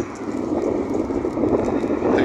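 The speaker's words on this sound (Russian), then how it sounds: "Сейчас, кстати, очень ветрено на улице" Heavy outdoor wind buffets a smartphone microphone (OSCAL C70), producing a constant low, rough rumble with no other sounds standing out.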